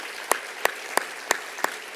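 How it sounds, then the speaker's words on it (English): Audience applause at a Los Angeles gala, heard as a short run of evenly spaced, sharp claps, about one every third of a second, fairly close and alone with no talking. "Yep, that's right, you can clap for that."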